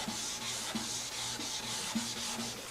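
Sandpaper rubs by hand over a very thin lacquer finish on a guitar, a close, steady hiss broken into short, regular straight strokes, with no voices.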